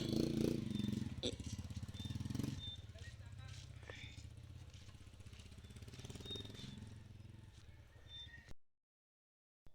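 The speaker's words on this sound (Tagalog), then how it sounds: "May motor!" A motorcycle engine hums past at a moderate distance, a low throbbing drone beneath people chatting nearby.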